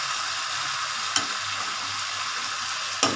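Chicken kasa, about a kilo of chicken, sizzling and frying in a pan as a steady hiss fills the background, with two sharp scraping stirs of a spatula.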